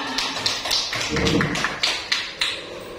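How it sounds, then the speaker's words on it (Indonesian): A group clapping in a school assembly for teacher Bu Sri at an elementary school orientation, heard as a short run of sharp, irregular claps over general room noise. "tepuk tangan buat Bu Sri dong"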